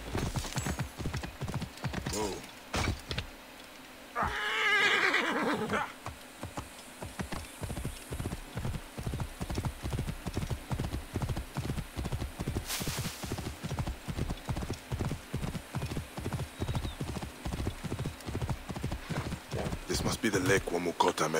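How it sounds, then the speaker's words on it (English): Horse hooves clip-clop in Assassin's Creed Origins, a steady, fast, even beat that runs almost the whole time, with a brief whinny early on and someone talking over it. "That was a horse."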